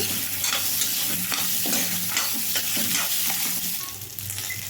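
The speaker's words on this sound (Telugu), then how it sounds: "ఆ ఉల్లిపాయలను కూడా వేసేసుకోవాలి ఉల్లిపాయ కూడా వేగాలండి" Small onions sizzling steadily in a hot pan for a Guntur-chilli stuffed brinjal fry, with repeated scraping stirs and clinks of a spatula over a constant bright crackle.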